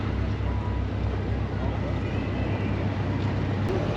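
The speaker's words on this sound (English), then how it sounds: "I'm on the ferry and ready to take it across the harbor to Charlestown." A ferry crossing Boston harbor to Charlestown: a steady low engine rumble and broad water and wind wash, constant and close, with no clear voices over it.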